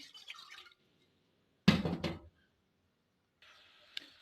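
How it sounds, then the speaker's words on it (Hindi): Water poured from a cup into a cooking pot set on a stove for masala chai, a single splashing pour of about half a second, close and fairly loud, with quieter kitchen clatter before and after. "अब इसमें सबसे पहले जाएगा ये 1 कप पानी।"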